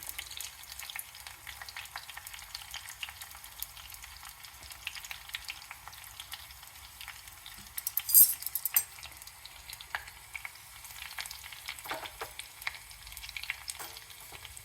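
Garlic and curry leaves fry gently in hair oil over low heat, a soft steady sizzle with faint crackles and a brief clink of utensil near the middle, quiet and close with no voices.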